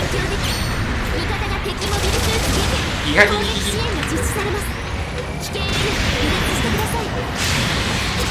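Gunfire and beam-saber slashing in the mecha video game Gundam Battle Operation 2, rapid bursts of shots and clashing impacts over a dense, continuous battle din, with one sharper hit standing out.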